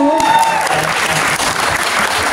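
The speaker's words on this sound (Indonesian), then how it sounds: "tepuk tangan untuk Jirai" A television studio audience applauds a performer named Jirai, loud sustained clapping from a crowd that swells at the start and holds steady throughout.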